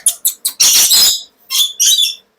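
A pet myna or parrot kept at a bird shop gives a series of close, loud calls: three short sharp chirps, then a long harsh screech, followed by two more raspy bursts after a pause.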